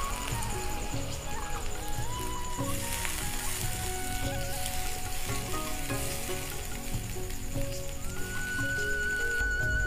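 Water poured into a pan of spiced masala that has been frying until the oil separates, for a cabbage kofta curry, giving a steady, loud, close sizzle and bubbling that runs throughout with no voices.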